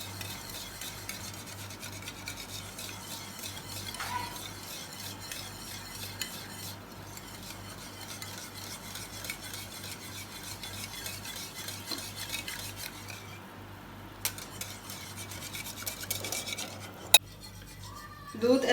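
Milk and eggs whisked together in a bowl for caramel egg pudding give a soft, continuous scraping stir, faint and even throughout, with a few light clinks of utensil on the bowl near the end.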